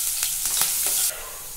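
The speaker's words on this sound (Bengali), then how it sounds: "পেঁয়াজটা আমার ভাজা হয়ে গেছে" Sliced onions frying in hot oil in a pan for a tarka dal, a loud close hiss and sizzle with quick stirring scrapes, easing slightly near the end.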